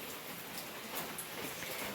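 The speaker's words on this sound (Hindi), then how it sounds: "आज भी बारिश वैसे ही हो रही जैसे 5 दिन हुई" Steady monsoon rain falls in a continuous broadband hiss, with scattered drops pattering on surfaces throughout and no voices.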